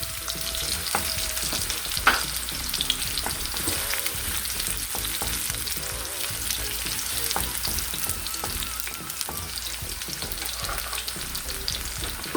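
Onion and garlic sauté in a pan for noodles with a continuous loud sizzle and scattered stirring scrapes and clicks throughout.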